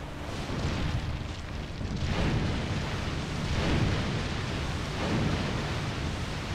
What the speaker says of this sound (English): everything is gonna end with a huge explosion